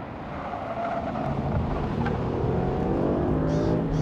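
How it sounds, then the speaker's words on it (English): A Ford Mustang GT Track Pack accelerating hard through its gears on a track: a loud, sustained engine roar that climbs steadily in pitch, heard from inside or close by with no talking. "Going through the gears in the Mustang GT track pack, comparing it with the Camaro 1LE."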